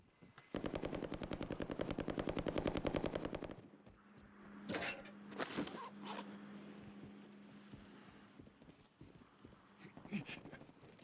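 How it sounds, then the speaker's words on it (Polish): A rapid burst of distant automatic gunfire in the video game Warzone 3 rattles for several seconds, followed by scattered thuds and faint background noise. "słychać jakieś strzały, ale daleko"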